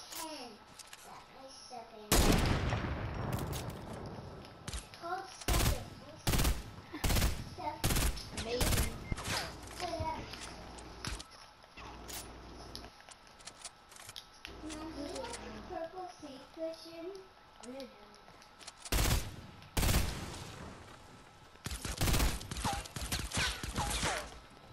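Gunfire in the video game Fortnite, repeated sharp shots and quick bursts spread through the clip, some loud and close, with game sounds and a young player talking in between.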